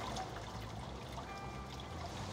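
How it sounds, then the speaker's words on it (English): Sparge water is poured from a pitcher over the grain bed during homebrewing of a coffee blonde ale in a Brewzilla Gen 4, a soft continuous splashing trickle that stays steady and close with no talk. "you're just grabbing your sparge water with a pitcher and just dumping it over like this"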